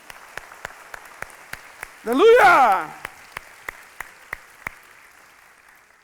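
A church congregation claps in a slow, even rhythm of distinct individual claps, broken midway by a loud voice shouting.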